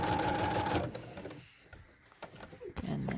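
A sewing machine stitches through a quilt during echo quilting with templates, running loud and steady for just under a second, then stopping, with light handling noises and a brief burst of machine sound returning near the end.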